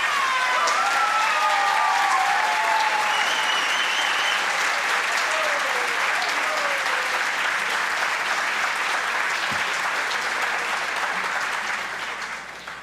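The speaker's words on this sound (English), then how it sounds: "you should stand up and get another round of applause" Sustained applause from an audience of students and attendees at an academic symposium fills the room, steady and dense for most of the stretch before tapering off near the end; faint whistles or calls rise above the clapping.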